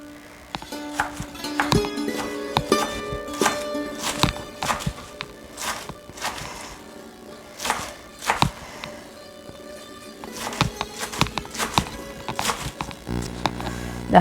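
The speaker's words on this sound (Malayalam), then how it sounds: "അത് നമുക്ക് അരിഞ്ഞെടുക്കാം." Fresh green cheera (amaranth) leaves chopped with a knife on a board, giving uneven bursts of close, crisp knocks and thuds with short pauses between runs of cuts.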